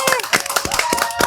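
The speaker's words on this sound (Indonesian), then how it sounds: "tepuk tangan dulu dong" An audience at a show claps in a quick, even rhythm, each clap crisp and close, with voices heard over the clapping.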